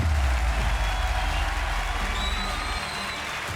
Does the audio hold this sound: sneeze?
no